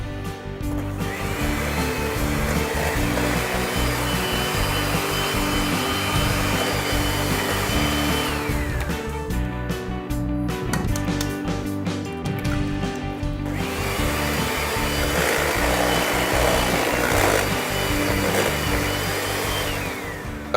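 An electric mixer whirs continuously and steadily while blending eggs into triple chocolate brownie batter, loud and close, its pitch shifting slightly midway as the load changes.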